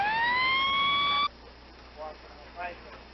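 An emergency vehicle siren wails with a rising tone for just over a second, loud and close, then cuts off abruptly, leaving faint background noise with brief radio-style voices.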